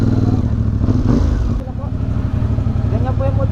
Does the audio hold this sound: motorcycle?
yes